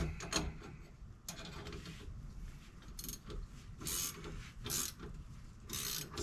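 A ratchet tightens a puller on the rear axle of a Land Rover Discovery 2, giving bursts of close, clicking turns and scraping metal clatter in a workshop.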